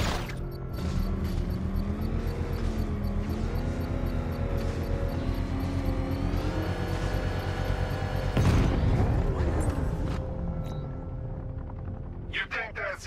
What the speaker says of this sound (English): I can use the power winch to trigger a controlled explosion.